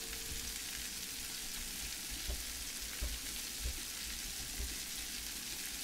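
Chopped red peppers and onions fry in a pan with a steady, even sizzle throughout, with a few faint stirring knocks rising above the constant crackle.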